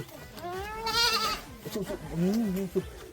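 A goat bleats nearby in a wavering, quavering cry, followed by a second shorter bleat, loud and close with some background voices.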